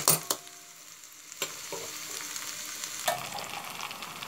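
Sabudana pakodi fry in hot oil with a steady broadband sizzle, broken by a few sharp clatters of stirring; no one speaks.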